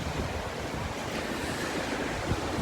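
Ocean surf at Hampton Beach after Hurricane Lee rushes in a steady, loud wash of crashing waves mixed with wind buffeting the microphone, with no voices.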